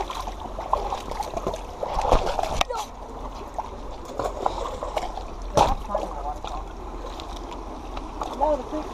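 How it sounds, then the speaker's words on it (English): A small waterfall in a creek bed splashes and burbles steadily nearby, with brief louder knocks and rustles over the flowing water. "Oh, that's a nice little waterfall."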